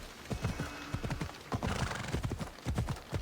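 Galloping horse hooves in the video game Assassin's Creed Odyssey, a loud, close, rapid clip-clop rhythm with a brief whinny, heard alone without talk.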